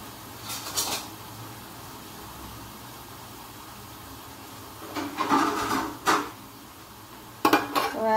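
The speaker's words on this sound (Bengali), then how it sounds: "তো এখন আমি বেরেস্তাটা উঠায় নিচ্ছি একটা পাত্রে।" Fried onions for pulao being lifted out of a pot of ghee with a spatula, giving short metallic scrapes and clinks in bursts between quiet stretches.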